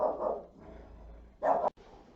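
A pet puppy barks to announce its owner arriving home for lunch: two short, fairly close bursts of barking separated by a quieter pause, with low room noise between them.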